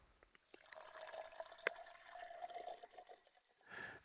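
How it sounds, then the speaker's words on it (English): Blood Oath Pact No. 1 bourbon pours from a bottle into a glass in a quiet room, a soft trickling stream with a rising liquid tone and a few small clinks and drips, fairly close and faint. "And I'm going to pour me a little bit here."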